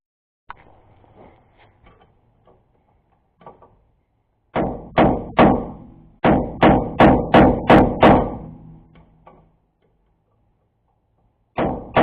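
Steel hammer tapping an axle nut on a 2000 Honda Civic to stake it in place, a few light taps then a loud run of sharp metallic strikes in quick succession, close up and alone, with one more pair of hits at the end.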